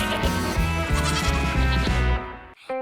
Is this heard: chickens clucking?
no